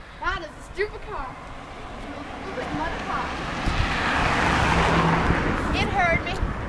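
A car passes along a road nearby, its engine and tyre noise swelling to a broad roar and fading, while a voice speaks loudly over the start and end.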